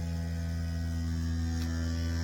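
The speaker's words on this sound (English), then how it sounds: "I want you to hear that sound of the vacuum" A DeWalt 20V MAX cordless Grabo suction lifter's vacuum pump runs with a steady low electric hum and a faint buzzing whine, constant throughout, nearby.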